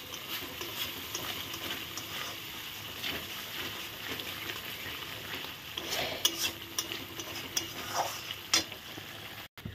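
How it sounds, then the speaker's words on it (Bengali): Spices with turmeric and salt fry and sizzle in a pan for potol bahar, stirred with a utensil that scrapes and clinks steadily for several seconds, with no talking. "সব কিছু দিয়ে ভালো করে নেড়ে নেব।"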